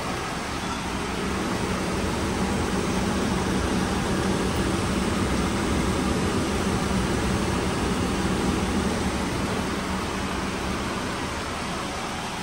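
A 12V rooftop air conditioner on a campervan runs with the vehicle's engine off, giving a steady, even broadband whoosh of fan and compressor that stays constant throughout with no talk.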